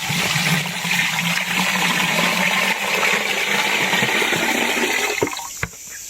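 Water pours in a strong, steady rushing stream into a bamboo drip irrigation setup, continuing for several seconds before tapering off with a final splash and a trickle.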